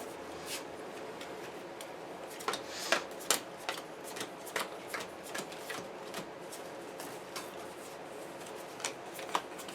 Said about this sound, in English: So these all get shuffled into here.